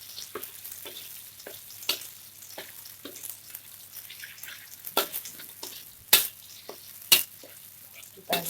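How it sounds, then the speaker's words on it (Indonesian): A ground spice paste of ginger, turmeric and shallots sautés in hot oil for kalio cincang kentang, with a soft sizzle and sharp, intermittent scrapes and taps of a spatula against the pan. "Yang pertama kita tumis bumbu-bumbu yang sudah kita haluskan tadi beserta bumbu tambahan"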